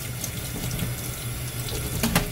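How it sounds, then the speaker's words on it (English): Cold tap water runs steadily from a faucet into a sink while bluegill fish are cleaned under it, a close, continuous splashing rush with a brief clatter near the end. "I like to run a little cold water over them when I'm doing it."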